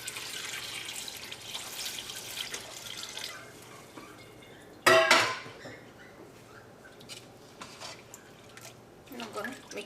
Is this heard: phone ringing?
no